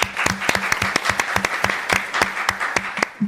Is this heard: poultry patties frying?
no